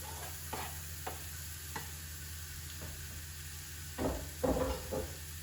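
Onions fry with beef in a pan, giving a steady low sizzle broken by occasional scraping stirs, which grow louder and closer toward the end.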